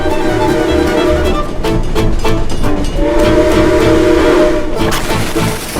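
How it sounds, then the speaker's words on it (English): A train at Silver Dollar City amusement park roars close by with steady rumbling and a sustained horn-like tone, loud and continuous throughout. "A train's coming that way."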